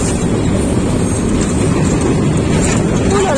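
A small tourist train running between Soulac and Pointe de Grave picks up speed, a loud, steady rumble and rushing noise heard from on board that holds without pause.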